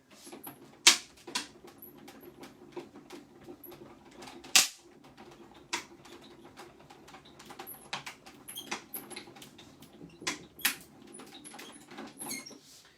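A die-cutting machine pressing dies through card makes sharp, irregular clicks and snaps, a few of them loud against a quiet mechanical background, with no talking.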